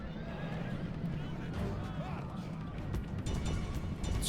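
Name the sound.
cavalry charging, horses galloping in the video game Rome Total War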